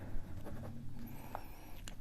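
Pen handwriting during a Class 8 maths lesson on rational numbers: short, soft scratching strokes close by for about two seconds, with no talking.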